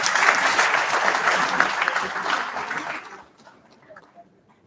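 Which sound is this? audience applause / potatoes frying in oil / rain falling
audience applause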